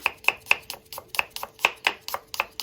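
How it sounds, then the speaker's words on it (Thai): A knife slices garlic into rings on a cutting board, producing about a dozen quick, sharp, close chops in an uneven but brisk rhythm, with no talking. "กระเทียมนะคะ หั่นเป็นแว่นนะคะ"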